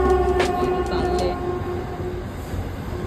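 A train bound for Saphale near Virar rolls steadily on, a continuous low rumble of wheels and carriages with a faint squeal near the start.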